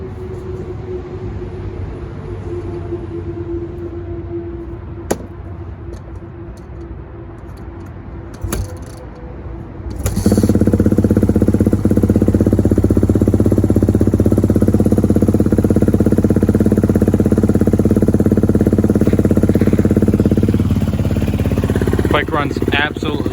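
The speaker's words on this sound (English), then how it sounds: "I'll go ahead and start her up for you guys." Yamaha WR450F supermoto motorcycle with a rebuilt wrecked body, a few clicks and quiet rumble before the engine catches and runs loud and steady close by, holding a strong idle throughout the rest.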